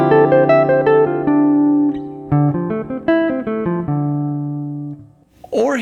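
A jazz guitar strums chord shapes with an added ninth, several ringing chords struck in a loose rhythm and left to sustain, close and clear, ending with a brief faint noise.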